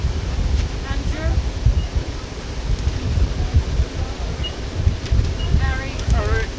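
Gusty wind buffets the microphone on the open deck of the P&O Arvia cruise ship, rumbling in uneven surges while voices chatter faintly underneath.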